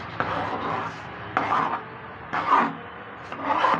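A boy chopping onions with a knife, several close knife strokes in short bursts with pauses between, scraping softly against the board.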